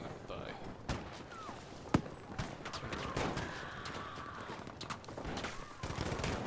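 Gunfire in the Battlefield V video game, a scatter of sharp shots and short bursts at varying distances with one loud crack, under steady game ambience while a player talks.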